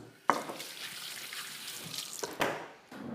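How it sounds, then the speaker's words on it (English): Hands are washed under a running kitchen tap, a steady close water rush broken by splashes and clunks as the hands move in the stream. "let's wash my hands"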